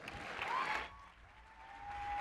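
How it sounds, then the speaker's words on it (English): An audience at a 2019 YP Summit change-maker event applauds briefly and fairly faintly. The clapping swells and then fades into a quiet room with a faint steady tone. "Let's give Eli Rigatuso a round of applause."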